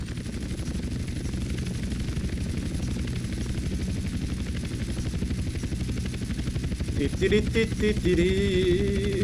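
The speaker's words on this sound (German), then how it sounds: "Hubschrauber" A helicopter in the video game GTA San Andreas, a steady, fast rotor thump that drones throughout, with a burst of higher-pitched engine whine and clatter joining near the end.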